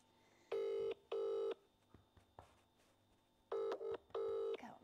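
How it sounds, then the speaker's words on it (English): An unanswered telephone call rings out twice, each ring a pair of short tone bursts separated by a pause, with quiet background between them. "Come on, Matthew, answer your phone there. No answer"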